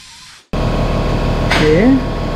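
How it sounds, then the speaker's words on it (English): A tool grinds metal off a bracket on a Subaru EJ253 engine in a 2010 Impreza to clear room for a bolt. A steady, harsh, loud noise starts abruptly after half a second and runs to the end, with a brief voice-like warble partway through. "I'm just going to grind off a little bit on here to get clearance to get a bolt in there"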